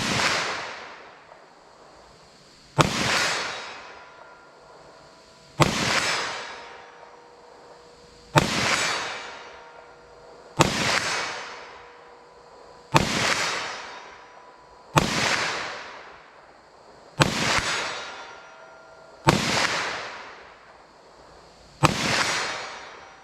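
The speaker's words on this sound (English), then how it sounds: "So 357 SIG, let's see how this gun shoots it." A .357 SIG pistol fires nine loud, sharp shots at steady intervals of about two and a half seconds, each crack trailing into a short echoing decay outdoors.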